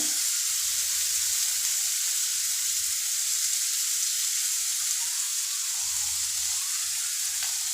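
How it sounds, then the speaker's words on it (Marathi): Onion sautéing in a pan for kanda poha, a Maharashtrian breakfast, giving a steady, even sizzle with faint stirring scrapes throughout, no voices. "कांदा परतून घेऊया थोडा ब्राऊन झाला पाहिजे"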